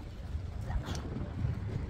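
Steady outdoor wind rushing and buffeting, a low continuous roar with gusts, fairly close to the microphone and no other clear sounds.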